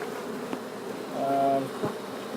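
Honeybees buzzing during a removal of a colony from floor joists, a brief swell of buzzing wings that rises and fades over a soft background hum, with no talking.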